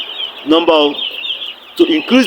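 Broiler chickens (Arbor Acres and Ross 308) inside a poultry house give loud, close clucks in short bursts over a steady background hum.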